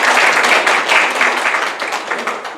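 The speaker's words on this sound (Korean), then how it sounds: "더욱 찬양대가 더 힘쓸 수 있도록 우리 격려와 하나님의 영광의 박수 올려드립시다" A church congregation applauds the choir with dense, sustained clapping that fills a large room. The applause is loud and close at first, then slowly thins and fades.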